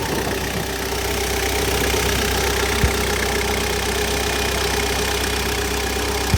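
A Hyundai Terracan JX250 diesel engine idles steadily at close range, a constant rattly clatter with a low drone and a couple of faint clicks, no voices.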